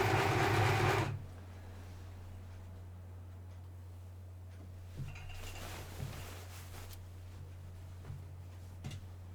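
A sewing machine stitches costume fabric in a loud, steady whir for about a second, then stops and leaves a low electrical hum with a few faint clicks and taps.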